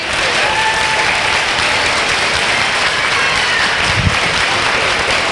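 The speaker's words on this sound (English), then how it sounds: "Let's give them a big round of applause." A crowd at a campaign office grand opening claps in a sustained, loud round of applause, dense and even throughout with no talking over it.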